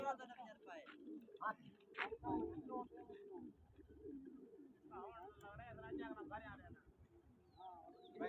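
Pigeons coo and flutter while being flown, with soft, fairly faint calls mixed in among other bird sounds and intermittent human speech.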